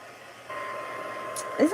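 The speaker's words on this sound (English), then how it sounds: "I just want to dry this a little bit before I put it in my trimmer" A heat dryer switches on partway through to dry a craft journal page, giving a steady close whirring blow, and a voice breaks in near the end.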